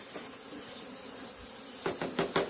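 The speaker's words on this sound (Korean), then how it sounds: "꿀벌들은" Honeybees swarming from a hive buzz in a steady, dense drone, with a few sharper pulses of nearby wingbeats near the end and no voices.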